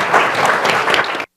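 A round of applause from an audience after remarks on U.S.–Brazil relations, with dense clapping held steady and fairly loud for just over a second before stopping abruptly.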